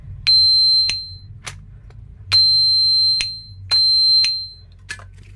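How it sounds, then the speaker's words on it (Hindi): An electronic door lock buzzer sounds three sharp beeps one after another, each a steady high tone with clicks at start and end, over a faint low hum. "अगर ये स्विच दबा रहेगा तब भी बजर की आवाज़ आएगी।"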